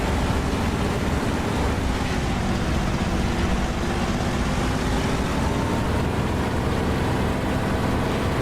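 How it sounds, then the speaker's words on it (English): Failing piston aircraft engine in the DCS flight simulator, a steady loud broadband drone with a low rumble that holds throughout without clear breaks, no talk over it. "There we are, engine's dying."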